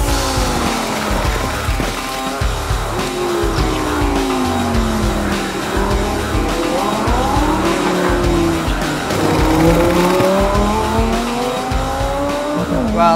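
Race cars lap a motorsport track, engines loud and close with rising and falling pitch as they pass, accompanied by tire squeal and skidding.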